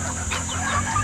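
A chicken clucks softly in short bursts over a steady background hum, with faint farmyard noise around it.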